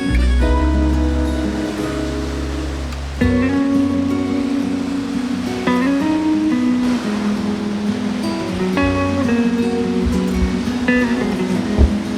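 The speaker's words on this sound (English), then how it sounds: "So I don't know if you guys can hear me over the waves" Ocean waves break on the shore near a beach campsite, loud rushing surges rolling in every few seconds, a constant wash with no voices.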